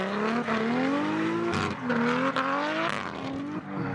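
Race car driven hard at a drift event, engine screaming steadily with rising and falling pitch as it revs between shifts, layered with continuous tire squeal, loud and close throughout.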